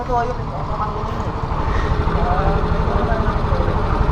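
A motorcycle engine idles with a steady low throbbing chug, close and continuous, growing slightly louder partway through.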